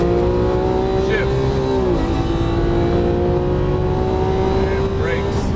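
Lamborghini Aventador LP700-4 engine accelerating on a Las Vegas racetrack, a loud sustained drone that dips briefly as a gear changes, then climbs again, with an instructor's voice faintly over it.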